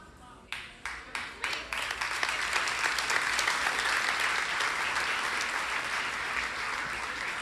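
A church congregation breaks into applause, starting with a few separate claps that quickly swell into steady, dense clapping that carries on to the end.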